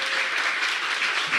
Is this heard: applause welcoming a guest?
yes